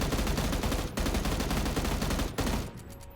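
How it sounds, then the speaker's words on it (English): An M16A4 rifle in PUBG firing about eight rounds per second, a loud continuous stream of close shots with two brief gaps, then fading out at the end. "This is an example of shooting 8 times per second, and the inconsistency is blatantly obvious here."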